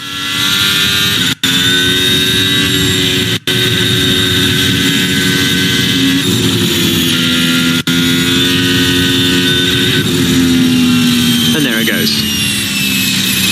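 A loud Formula 1 car engine running rough drones continuously at high revs during practice, its tone wavering and sputtering unevenly, with a brief crackle near the end.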